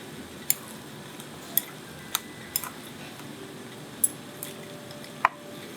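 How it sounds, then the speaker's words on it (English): Chopsticks mix wagyu beef dumpling filling with sautéed mushrooms and dried chili, giving sparse, light clicks and taps against a quiet background with no talking. "now you take your lovely chopsticks, give it a good mix"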